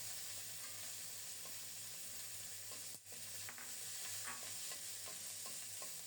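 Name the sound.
green chilies frying in a pan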